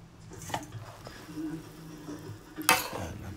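Stirring pansit noodles with cabbage and celery in a home cooking pan, with scraping and clinking of a utensil against the pan and a louder clatter near the end, voices talking faintly underneath.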